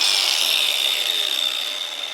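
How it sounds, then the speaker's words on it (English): A brushed angle grinder fitted with an Avanti diamond masonry wheel cuts through masonry with a steady, loud high-pitched whine and gritty hiss that holds continuously, tapering slightly toward the end. "brushed angle grinder with a diamond Avanti masonry wheel. As you can see, this thing cuts like butter."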